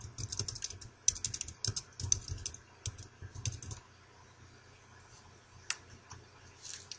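Quick, irregular keystrokes on a computer keyboard in bursts, then sparser isolated clicks, close and fairly quiet with no talking.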